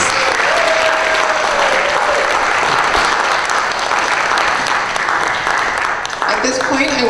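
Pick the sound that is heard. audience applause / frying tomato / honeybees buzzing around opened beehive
audience applause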